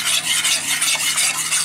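Sauce for sweet smoked spare ribs stirred in a heated pot, a close, rhythmic scraping of a utensil in repeated strokes over a faint sizzle, with no talking.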